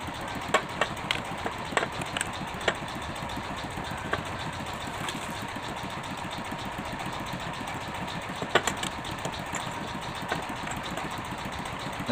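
A Hino Lohan truck engine idles roughly with a heavy vibration, making a steady, rumbling chug with irregular knocks and clatters that runs throughout.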